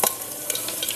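Dried red chilies hit hot oil with garlic and cumin in a pan, giving a bright, close crackling sizzle with a few sharp spits and scraping stirs, with no talking.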